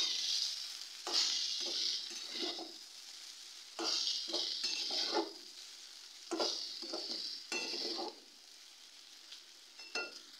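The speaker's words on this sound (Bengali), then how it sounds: "এরমভাবে নাড়তে থাকবেন, কতটা ঝরঝরে রয়েছে চাউমিনটা দেখেছেন" Vegetable chowmein stirred in a wok with a spatula, heard as separate bursts of scraping and sizzling, one stroke after another, with quieter frying between them.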